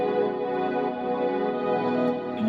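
Sustained, layered future bass chords swell and dip in level, pumping in a steady rhythm as the sidechain compression ducks them against the kick, produced in Logic Pro X. Moderately loud, with no talking.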